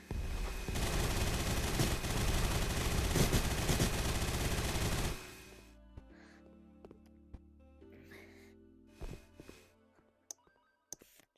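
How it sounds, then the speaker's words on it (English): Sustained rapid minigun fire in the video game Gun Raiders, a dense loud roar of shots for about five seconds, then stopping abruptly, followed by scattered clicks and quieter game sounds. "Okay, the minigun. This is gonna do the most damage."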